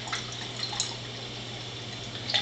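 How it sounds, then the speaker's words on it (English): Water pours steadily from Athena and Giant water ionizers set to level 3, a soft continuous splash and trickle with a few brighter drips, close and alone under a low steady hum. "I'm going to pour water at level 3 for both of them"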